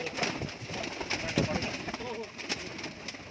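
Rampuri kalanch pigeons coo softly in a loft, repeated low calls mixed with background chatter and a person talking nearby.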